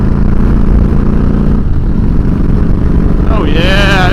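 A Harley-Davidson Fat Boy with an 88 Twin Cam engine accelerates on a highway, its loud, steady low rumble joined by wind noise, with a rising whine near the end.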